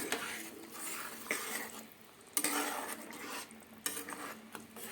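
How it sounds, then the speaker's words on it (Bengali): Fish curry with fresh coriander leaves being stirred in a pot, with a steady scraping, clinking ladle against metal and a few sharper knocks, close and fairly quiet, no voices. "এবার একটু নাড়িয়ে দেবো।"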